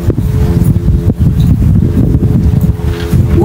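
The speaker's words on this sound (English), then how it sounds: "it is too windy" Loud, rumbling wind buffeting the microphone, a constant low roar with gusty thumps and no voices.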